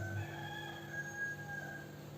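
A rooster crows somewhere nearby, a drawn-out call that holds steady at a moderate level with no talk over it.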